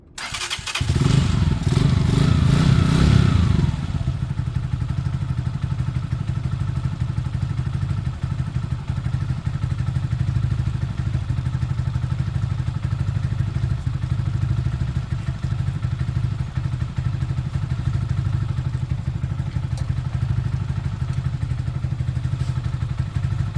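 A Huoniao HN125-8 125cc motorcycle, just after a carburettor clean, clatters briefly as it starts, then settles into a steady, loud idle that runs unbroken for over twenty seconds with no voices.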